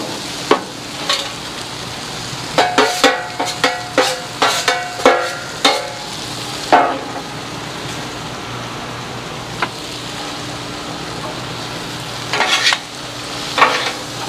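Bacon cooking on a Char-Griller Gravity 980 charcoal grill, a soft steady sizzle beneath a series of sharp metallic clinks and scrapes from a utensil, mostly clustered together and then scattered, with no talking.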